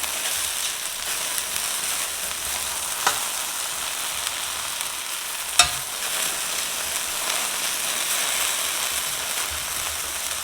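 Okra sizzles low and slow in a pan, a steady soft hiss of frying with a couple of faint clicks from the pan or utensil, no voices.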